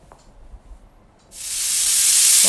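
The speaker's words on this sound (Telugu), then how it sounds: "ఒక్క విజిల్ రాగానే కుక్కర్ ఆఫ్ చేసేసుకోవాలి." A pressure cooker cooking a dry fish curry lets off steam after a quiet moment, a sudden loud hiss swelling up and holding steady at close range.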